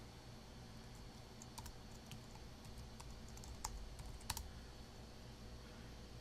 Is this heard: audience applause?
no